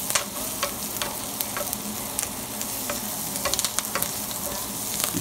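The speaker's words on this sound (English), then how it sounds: "And I'm gonna cook my liver, fry them down, leave them down with" Chicken livers dusted in all-purpose flour fry in a pan for New Orleans-style cooking, giving a steady, close, dense sizzle and crackle with light spattering pops throughout and no talking.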